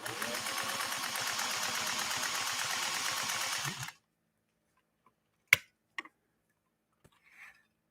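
A 1958 Singer 404 sewing machine runs steadily for about four seconds with an even, smooth whir, then stops, leaving near silence broken by a few faint clicks.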